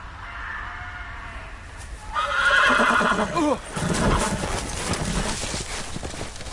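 Video-game horse from a Game of Thrones episode: a loud, rising whinny and snorting near the listener, then a shorter neigh and the clip-clop of hooves, with a light bed of game ambience.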